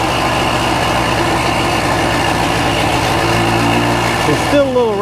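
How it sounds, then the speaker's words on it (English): A 1965 Montgomery Wards Benelli scrambler motorcycle runs with a steady, rattly single-cylinder putter, close and loud throughout, and the revs shift near the end. "It's still a little rattly. I gotta figure out what that rattle is. It runs good."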